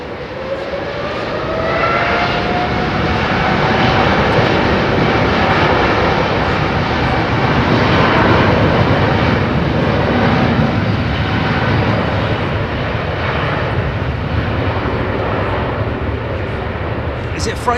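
A departing airliner at London Heathrow Airport makes a loud, sustained jet roar that builds in the first two seconds and then holds steady. A faint tonal whine sits above the broad rumble.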